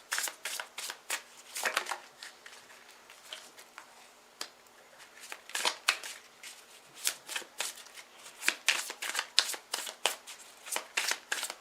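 Tarot cards shuffled close by, a run of crisp riffling and flicking bursts in an irregular rhythm over a quiet background, with no talk.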